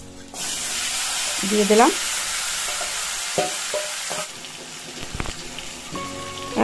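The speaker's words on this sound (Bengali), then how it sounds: "এখন একটুখানি নাড়াচাড়া করে নিয়েই আমি ম্যারিনেট করা চিকেনগুলো ছেড়ে দেব" Marinated chicken hits a hot pan with cumin, giving a loud, steady sizzle that starts abruptly and continues under brief stirring clatter, with someone speaking quietly over it.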